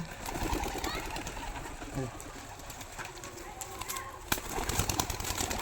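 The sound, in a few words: pigeons being released, cooing and flapping wings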